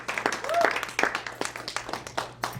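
Scattered applause from an open mic audience at a library event, a thin run of claps with a few voices calling out over it.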